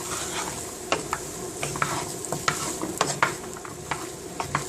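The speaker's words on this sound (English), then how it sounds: "Then we put in our hard vegetables. And we start to saute them." Hard vegetables sauteing in a pot for a beef lentil chilli, a steady sizzle with frequent close stirring scrapes and clinks from a utensil against the pot, with no talking.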